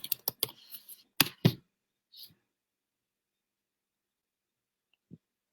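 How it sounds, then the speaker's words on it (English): Someone types a search on a computer keyboard, a quick run of close, crisp key clicks that stops, followed by one soft isolated tap a few seconds later in near silence. "If we're going to type best salon in Clearwater"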